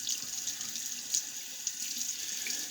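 Running water from a tap streams steadily over a Star Super Six safety razor blade being rinsed, a continuous close hiss with a few brief splashy bumps as the blade moves through the flow.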